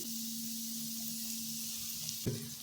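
Soft, steady sizzle of ground pea and spinach paste hitting sautéed capsicum in a hot pan for hara bhara kebab, with a faint hum and a brief clatter near the end.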